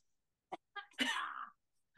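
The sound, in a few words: cough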